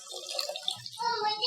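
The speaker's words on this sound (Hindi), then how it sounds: "इसमें हम पानी डालेंगे, 300 ml पानी डालेंगे" Water is poured into a shanwari minced meat karahi on the stove, producing a soft, close splashing trickle that runs briefly and gently at low volume.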